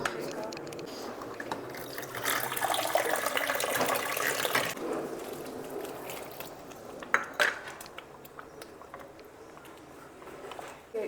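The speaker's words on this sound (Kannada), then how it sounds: "ಇನ್ನೊಂದು ಸ್ವಲ್ಪ ನೀರು ಹಾಕ್ಬಿಟ್ಟು" Water pours and splashes into a cooking pot with brinjal for several seconds, with metallic clinks of cookware and a few sharp knocks afterward.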